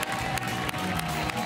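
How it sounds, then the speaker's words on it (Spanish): Studio audience applause at La Resistencia, recorded on location in Ibiza, greeting MotoGP rider Aleix Espargaró: dense, steady clapping from a crowd throughout the short stretch. "Un aplauso para Aleix Espargaró en la Resistencia."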